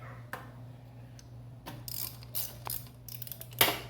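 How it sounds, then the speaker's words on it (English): A ratchet loosens the valve cover bolts on a GY6 engine, with a few short bursts of rapid metallic clicking separated by pauses and a sharper clank near the end, close and fairly quiet. "Take this here valve cover off. Loosen the bolts up and such."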